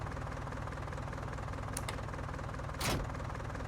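A tractor engine in Farming Simulator 19 runs at a steady idle, a continuous low knocking drone, with a brief click and a short whooshing surge near the end and no voices.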